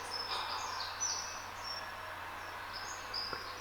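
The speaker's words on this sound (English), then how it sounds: "obviously got this nice stereo recording of just birds chirping" Birds chirp outside a bathroom window, recorded in stereo on a phone: faint scattered high tweets over a soft, steady outdoor hiss.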